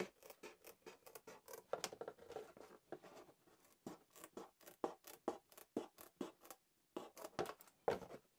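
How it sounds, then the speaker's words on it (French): Scissors snip slowly and carefully along the cut lines of a clear RC car body shell, giving quiet, close, irregular crisp cuts with short pauses between. "on vient découper vraiment beaucoup plus doucement, beaucoup plus proprement le long des lignes de coupe"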